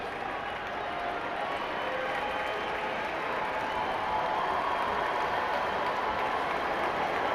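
Dowling Catholic football fans on their feet cheering on the defense in a stadium during a Class 5A semifinal against Valley, a steady, broad crowd roar holding at even loudness throughout.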